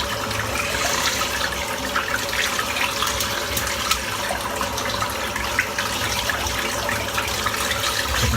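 Running tap water rinses a shaving brush at a sink, a continuous loud splashing and gushing that fills the whole stretch without pause.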